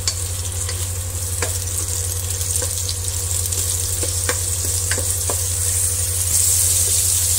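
Tomatoes sizzle in hot oil in a pan while ginisang monggo is cooked, a loud, steady frying hiss with intermittent clicks and scrapes from stirring, continuous throughout with no talking.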